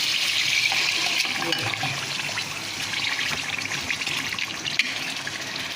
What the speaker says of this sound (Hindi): अब हमने इसमें डालना है पानी।